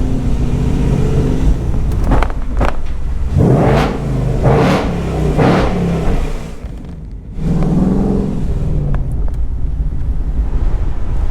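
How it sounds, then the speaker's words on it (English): A 2019 Ford Mustang GT with active exhaust revs hard on a bridge, several loud, close throttle blips rising and falling in quick succession, then a pause before another rev. "I'll give you a rev."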